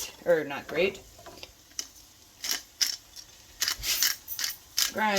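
A pepper mill grinds fresh pepper over a kale and asparagus quiche filling, giving a series of short, gritty ratcheting bursts after a brief stretch of speech at the start.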